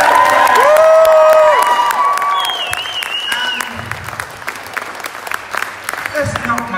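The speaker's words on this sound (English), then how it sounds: "Round of applause for Food for the Belt" A burlesque show audience at the Neon Newport Black Summer Ball gives loud applause and cheers, fading into scattered clapping and crowd noise while an emcee's voice sounds over it.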